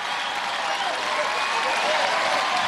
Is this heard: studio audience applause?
yes